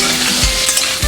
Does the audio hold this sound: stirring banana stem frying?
yes